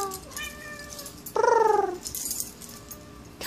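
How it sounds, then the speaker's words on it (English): A pet cat meows loudly and close, one drawn-out call in the middle, with faint softer vocal sounds before and after in a quiet room. "Meow."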